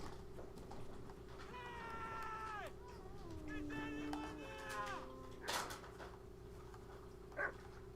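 Cat meowing from up a tree in the video game Kingdom Come: Deliverance 2, a run of drawn-out, wavering meows with a steady low hum beneath and a couple of brief sharper bursts near the end.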